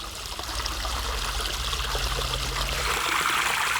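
Spring water flowing steadily in a Jeju garden, a continuous close rushing trickle that stays even and fairly loud, with no voices.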